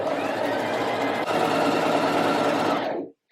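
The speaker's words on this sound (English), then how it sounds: "and then just start to sew another straight line" A sewing machine runs a continuous straight seam across a dress panel, a steady fast mechanical whir lasting about three seconds with a brief hitch midway before stopping.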